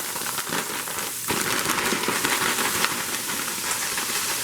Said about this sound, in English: start putting in my vegetables. I'm using frozen broccoli florets